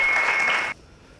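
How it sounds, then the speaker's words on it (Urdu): A church congregation clapping hard in a burst of loud, dense applause that cuts off abruptly after under a second, leaving quiet room tone. "آئیں زوردار تالیاں روح القدس کے لیے بجائیں۔"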